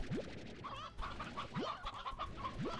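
Chickens in the video game Slime Rancher cluck and squawk in short, repeated bursts with rising chirps, moderately close and fairly quiet over a low background, with no talking.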